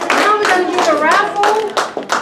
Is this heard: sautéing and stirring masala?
no